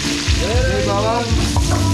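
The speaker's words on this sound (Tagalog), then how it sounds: "gigisa muna natin bawang sibuyas" Garlic and onion sizzle and fry steadily in a hot pan for a catered 80th birthday party, a continuous crackle with brief stirring scrapes, close and fairly loud, with a voice speaking over it.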